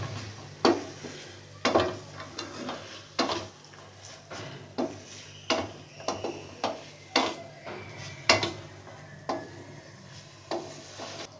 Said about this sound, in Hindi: एक दरमियाने साइज़ के लिए है प्याज, इसे भी मैंने काट के रखा हुआ है, इसे भी हम इसमें डाल के और हल्का सा सौटे कर लेंगे